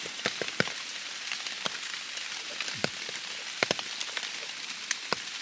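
Rain falls outdoors during mushroom picking, a steady soft patter with scattered sharper drops striking nearby leaves and surfaces throughout, no voices.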